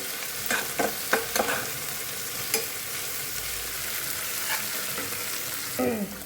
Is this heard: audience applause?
no